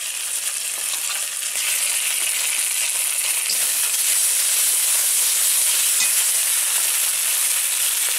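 Spice paste of turmeric, chilli powder and ground cumin sizzles and hisses steadily in a pan with a splash of water, a dense continuous frying sound held at close range with no voices.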